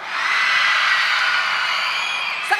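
A large crowd at a political rally in the Philippines shouts and cheers in one sustained loud roar of overlapping voices that holds steady for a couple of seconds.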